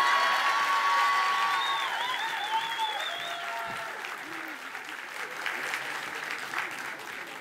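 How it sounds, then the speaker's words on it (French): Audience applause for a comedy act at a French variety show, a steady wash of clapping that starts loud and thins gradually, with faint tonal effects and some voices briefly over it. "Le loup est viré et le public l'applaudit."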